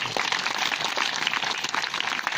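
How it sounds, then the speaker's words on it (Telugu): A church congregation claps their hands together, a sustained dense patter of applause at steady volume throughout with no voices. "చప్పట్లు కొట్టి యేసుకు రావాలిద్దాం"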